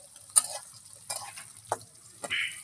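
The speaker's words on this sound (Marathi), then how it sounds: "आपला कांदा सुद्धा छान तेलामध्ये परतून घेणार आहे" Chopped onion frying in oil is stirred with a few separate scraping strokes over a quiet sizzle, each stir sounding close and brief.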